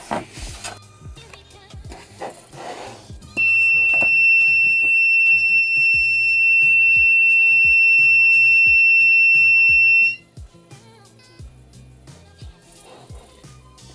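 Piezo buzzer of a simple soil moisture circuit sounding while the soil is dry, a loud continuous high electronic tone lasting about seven seconds then stopping abruptly, with handling clicks before and after.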